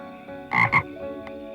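A frog gives two quick, close croaks in a row, the second shorter, against a faint low hum.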